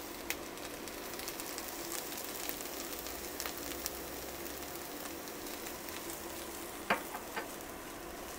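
Onions and garlic soften in a pan for a minced beef pie filling, giving a quiet, steady frying hiss with faint crackles and a couple of soft clinks near the end, no talk.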